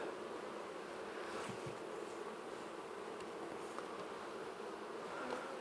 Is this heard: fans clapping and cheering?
no